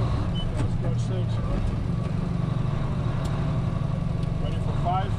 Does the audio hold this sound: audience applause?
no